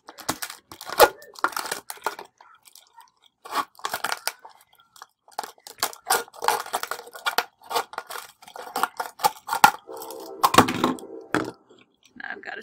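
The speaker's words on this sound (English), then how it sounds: "I can actually get the scissors in there" Scissors cut around a plastic water bottle that has been sawed open, giving loud close crunching and crinkling snips in irregular bursts, with short pauses between cuts and no talk.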